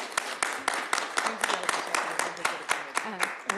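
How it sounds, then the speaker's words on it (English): A committee session room breaks into a brief round of applause, with sharp, irregular hand claps from a modest group sounding close and steady for a few seconds, lightly mixed with background voices. "A little round of applause."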